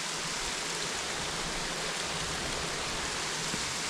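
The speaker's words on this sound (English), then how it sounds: "so this is the waterfall that we were coming to" A waterfall in Shenandoah roars as a constant, broad wash of falling water, loud and unbroken throughout.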